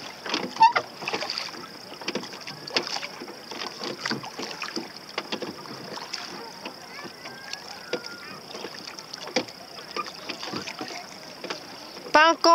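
An Optimist sailing dinghy moves through the water near a beach with soft lapping and splashing, intermittent knocks and creaks, and wind noise, while people talk close by.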